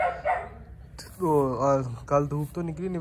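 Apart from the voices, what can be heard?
dog barking inside a shed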